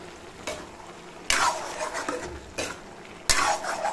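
A ladle scrapes and knocks against a pan of bottle gourd in a few distinct strokes, with a gentle sizzle underneath between the bursts of stirring.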